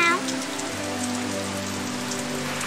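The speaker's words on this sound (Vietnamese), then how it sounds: "Ồ, ngoài kia trời mưa lạnh" Cold rain pours down steadily outside in an animated children's cartoon, a dense, even patter with a faint low tone humming beneath it.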